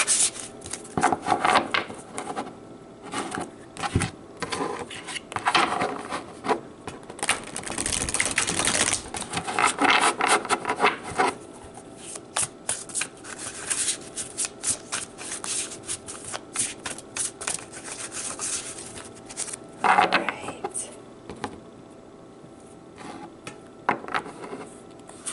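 Tarot cards being shuffled by hand, repeated bursts of crisp riffling and flicking close by, with softer rubbing and card handling between the bursts and no talk over them.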